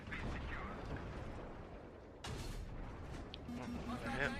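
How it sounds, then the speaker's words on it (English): Tank battle in a war video game, with a canister shell fired amid steady artillery-like rumble and mechanical noise, a sharp burst partway through followed by continued battle din. "that was a canister shell, that looked neat"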